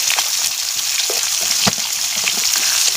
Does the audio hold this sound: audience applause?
no